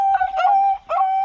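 A large dog howling close by, a steady drawn-out tone that breaks briefly and resumes for a second, loud and alone.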